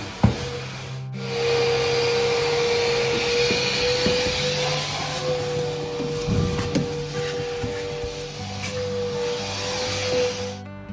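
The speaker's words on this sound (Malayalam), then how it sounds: "ബ്രഷ് കൊണ്ടായാലും വാക്കം ബ്രഷർ കൊണ്ടായാലും തന്നെ നല്ല രീതിയിൽ വാക്കും ചെയ്യുക" A vacuum cleaner runs continuously as it cleans the interior of a Suzuki Grand Vitara, a steady loud motor whine with brief pauses and scraping bumps from the nozzle, and no talking.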